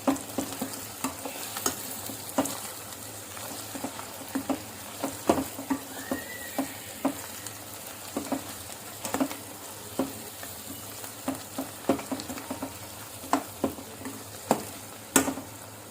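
Drumstick pieces fry in a pan with turmeric for a drumstick milk curry, a steady close sizzle broken by frequent sharp scrapes and knocks of stirring throughout, with no voices.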